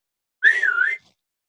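A ship captain blows one short, clear whistle that glides up and back down in pitch for about half a second, loud and close, in a quiet room.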